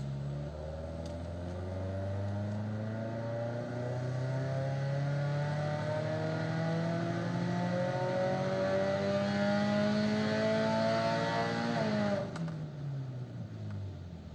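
A Subaru engine on a dyno climbs through a long, steady ramp run, its loud revving pitch rising smoothly for about twelve seconds before abruptly dropping off.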